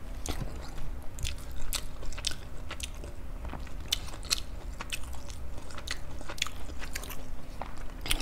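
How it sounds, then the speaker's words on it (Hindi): Mutton curry with rice being bitten and chewed close to the mic, with soft wet crunchy chewing clicks repeating steadily over several seconds under a faint background hum. "First bite."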